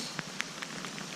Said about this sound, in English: That's like it's little tiny bits of hail